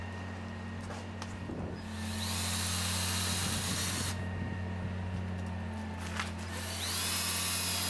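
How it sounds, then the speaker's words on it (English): A high-pitched power drill whirs in two long bursts separated by a brief stop, pre-drilling holes in exterior brick molding, over a steady low hum, with faint taps early on. "Pre-drill holes in the exterior brick molding."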